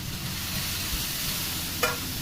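Ground onion paste with salt, turmeric, cumin and coriander powder fries in a pan, giving a dense, even sizzle throughout with one short scrape near the end.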